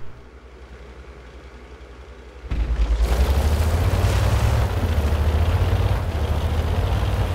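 A tank is destroyed in World of Tanks: after a quiet engine hum a sudden loud explosion bursts in, then a sustained heavy rumbling roar of fire and engines lingers, no talking.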